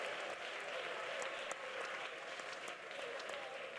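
Worshippers at a church prayer service clap together in praise, a sustained, even wash of many hands that stays soft and distant throughout.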